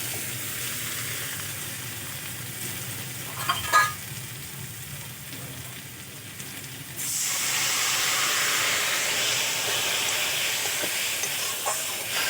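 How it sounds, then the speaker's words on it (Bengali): Spices and potato pieces frying in oil in a pan for a fish curry, a soft steady sizzle with a few stirring scrapes, then a louder, brighter hiss of frying for the second half. "খুব ভালো করে আমি আলুর সাথে মশলা কষিয়ে নেব।"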